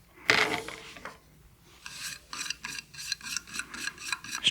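Interior of a wood-turned utility box being sanded with a power sander: a sharp initial rasp, then a steady run of close, rhythmic scratchy strokes with no talking.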